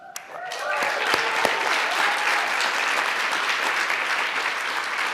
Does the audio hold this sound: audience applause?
yes